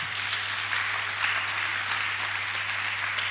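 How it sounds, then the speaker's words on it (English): A crowd claps steadily at a student union leadership inauguration ceremony, a loud, continuous wash of many hands with no talking. "clap very well"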